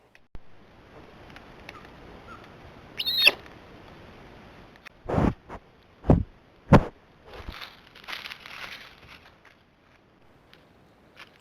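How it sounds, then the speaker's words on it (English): A puma mother gives a couple of short, high chirps to call her cub, followed by several louder, sharper chirping replies from the cub, spaced apart against a quiet outdoor background. "Listen to the mother summon her cub with 2 chirps, and then hear the cub's much louder response."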